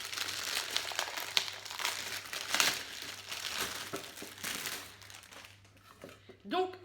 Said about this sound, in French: Je vais vous l'enlever du papier.